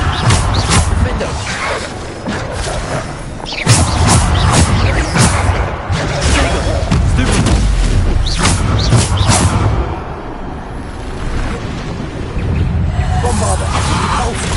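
Repeated magical blasts from the Bombarda spell in Hogwarts Legacy, dense booming and crashing impacts with whooshes, loud and continuous over busy game combat noise.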